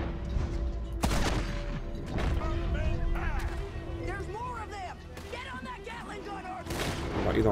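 Gunfire in the PC game Red Dead Redemption 2, a few sharp shots going off while someone talks over them almost throughout.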